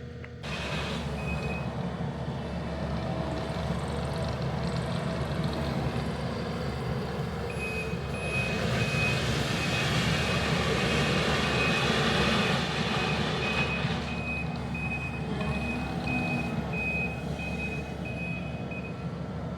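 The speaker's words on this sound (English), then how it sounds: "Monster mulcher doing its work, levelling out this bed of stone" A large mulcher machine at a sawmill construction site levelling a bed of stone, a steady heavy engine drone with grinding that swells in the middle, plus intermittent high reversing beeps, with no voices.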